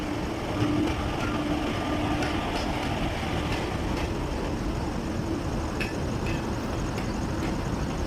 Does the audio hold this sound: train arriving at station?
yes